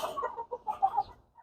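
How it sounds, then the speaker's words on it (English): A rooster clucks in a backyard coop with hens, a few short soft clucks in quick succession at close range. "Rooster number 1, rooster number 2, and the big ass rooster is right in there,"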